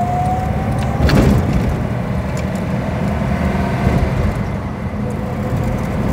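A vintage Armstrong Siddeley car engine idles nearby with an uneven, misfiring beat, running loud and continuous with a brief surge around the first second.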